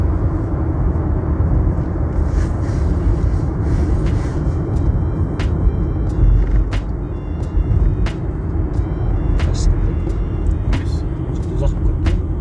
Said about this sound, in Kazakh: Газды қатты соңына дейін баспағанның өзінде міне енді 80-ге келдік.